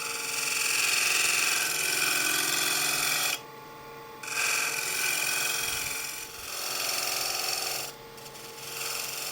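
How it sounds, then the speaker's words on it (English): A spindle gouge cuts wood on a lathe with a steady, close, rasping whir. The cutting drops out for a moment, then resumes, with another short dip near the end. "I use a spindle gouge."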